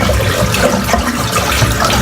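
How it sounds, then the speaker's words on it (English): Water draining from a full bathroom sink during a shave, heard as a steady, loud, close rushing and gurgling that continues through the whole clip. "I'm just going to empty the sink out because it's full here."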